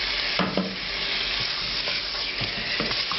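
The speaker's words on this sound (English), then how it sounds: "Now I'm going to add the tomato sauce" Tomato sauce goes into sizzling spices and oil in a pan for a lamb bhuna curry, a loud continuous frying hiss with a few stirring scrapes, no voices.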